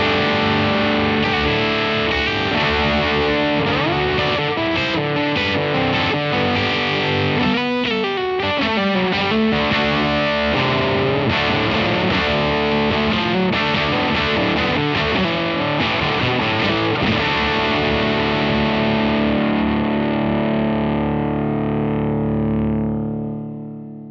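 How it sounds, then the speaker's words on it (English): Electric guitar played through a Supro Delta King 8 1-watt all-tube amp, overdriven into a clean-set Black Magic Reverb. Sustained distorted chords and riffs ring loud and continuous for about twenty seconds before fading out. "you can really hear the influence of the 1-watt all-tube overdrive"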